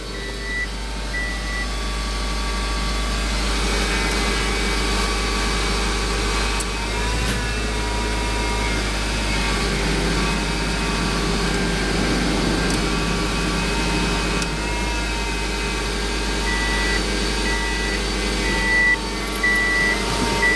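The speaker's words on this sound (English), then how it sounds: "That's my AC condenser you hear making a whining noise." A car engine idles steadily with no throttle applied, its AC condenser giving off a continuous whine above a low constant rumble, close and loud throughout with no voices.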